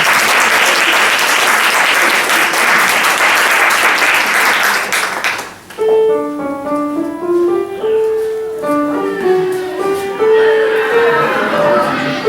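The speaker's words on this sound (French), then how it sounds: "Merci de les applaudir." Loud applause from a stage-show audience welcoming a performing group, dense clapping that cuts off around the midpoint and gives way to a melodic instrumental tune.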